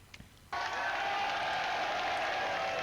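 After a brief quiet moment with faint voices, a church congregation suddenly breaks into steady, loud clapping that continues evenly to the end.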